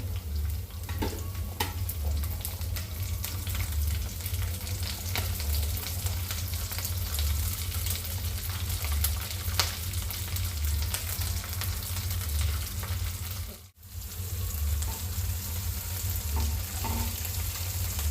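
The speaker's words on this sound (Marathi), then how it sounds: "आता हिरवी मिरची तळून घेऊ." Green chilies fry in a pan over a low flame, giving a continuous, even crackling sizzle for most of the stretch, with a brief dip near the end, and no one speaks.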